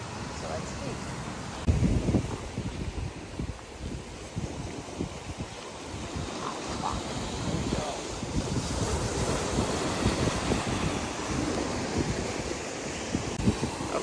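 Ocean waves wash onto a beach in St. Croix, a continuous rushing surf mixed with wind buffeting the microphone, with a slightly stronger swell partway through.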